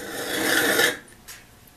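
A hand file rasps across the edge of a spade drill bit, one long close stroke followed by silence and a brief faint scrape.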